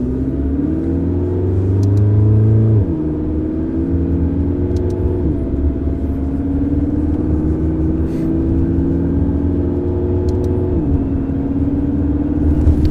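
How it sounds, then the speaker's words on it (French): A McLaren MP4-12C accelerates hard from inside the cabin, its engine droning loudly and rising steadily in pitch, with quick, smooth dual-clutch gear shifts marked by brief drops in tone before it climbs again. "On sent pas du tout le passage des rapports, hein. C'est là qu'on voit que c'est une double embrayage."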